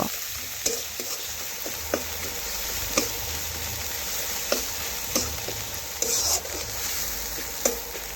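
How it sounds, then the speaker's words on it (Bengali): Spice paste with Kashmiri chilli powder frying with onions in a pan, a steady sizzle with periodic sharp scrapes of a spatula stirring, close and alone without talk. "ভালোভাবে পেঁয়াজের সাথে মিশিয়ে নেব মশলা আর একটু কষে নেব"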